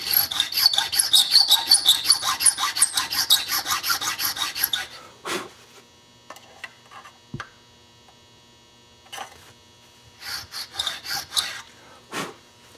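Rapid rasping strokes of a file cutting string slots in a guitar nut, a steady run of close scratchy passes for about five seconds, followed by scattered clicks, taps and short scraping bursts in a quiet workshop with faint hum.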